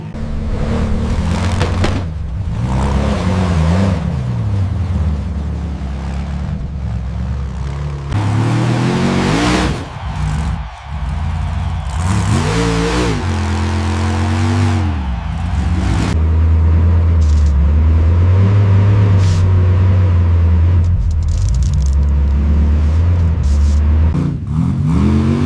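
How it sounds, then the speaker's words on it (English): Off-road hill climb vehicle engine held at full throttle up a steep dirt slope, a loud continuous roar with revving pitch swings and rumbling low end, close and sustained throughout. "Full throttle, no hesitation,"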